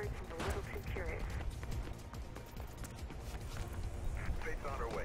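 Gunfire crackles through the Xbox 360 game Mirror's Edge as a scattered run of sharp reports over dense, continuous action noise, with voices in the mix.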